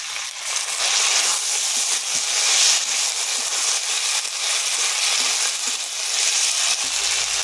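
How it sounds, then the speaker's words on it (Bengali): Potato and onion pieces sizzle steadily in a hot pan for a fish curry, a dense, loud, even hiss and crackle with no talking. "আলু পেঁয়াজ ভাজা ভাজা হয়ে গেছে।"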